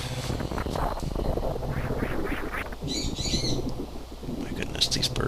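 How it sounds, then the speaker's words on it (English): Wild birds squawking and calling outdoors, with clustered harsh calls carrying over a steady background of game sound. "My goodness, these birds are..."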